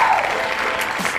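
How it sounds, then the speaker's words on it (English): A short burst of applause, a light patter of clapping that lasts about a second. "give yourselves a round of applause."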